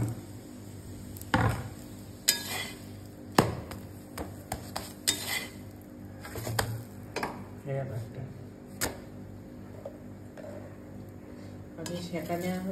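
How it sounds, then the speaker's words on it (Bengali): Chana dal paratha toasting and frying in a pan, with scattered metallic clinks and scrapes of a utensil against the pan and occasional thumps, under a low steady background hum. "সেঁকা নেওয়া হচ্ছে, এবারে ভাজা হচ্ছে"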